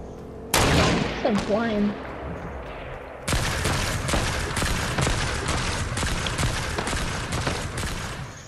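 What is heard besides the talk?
gunfire from robots in a shooter video game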